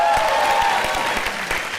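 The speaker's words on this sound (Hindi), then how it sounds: "जोरदार ताली हो जाए मेरे लिए" Audience applause at a comedy show stage, steady clapping filling the whole short stretch at a fairly loud level.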